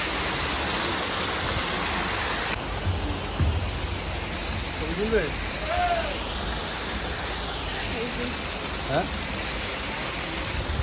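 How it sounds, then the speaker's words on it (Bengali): The waterfall at Rock Garden, Darjeeling, rushes in a steady, dense hiss that fills the whole scene, with faint voices and a few brief calls rising over the constant roar of water. "এই যে ঝর্ণাটা"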